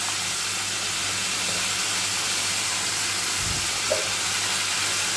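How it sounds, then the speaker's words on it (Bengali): Potato and papaya pieces fry in a wok, a continuous close sizzle and hiss with a brief scrape of stirring partway through. "সবার প্রথমে আলু আর পেঁপেটা একটু হালকা করে ভেজে নেব।"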